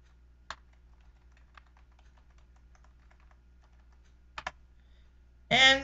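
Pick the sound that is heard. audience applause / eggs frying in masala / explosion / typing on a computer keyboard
typing on a computer keyboard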